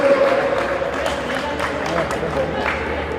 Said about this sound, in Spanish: Muy bien, aplauso fuerte